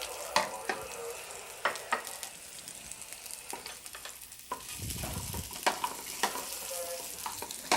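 Sliced onion goes into a pan of olive oil and pork chop drippings, with soft stirring and scraping over a light, steady frying sizzle, close by with intermittent clinks of a utensil.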